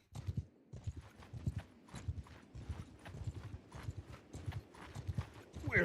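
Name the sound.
horses' hooves clip-clopping in a video game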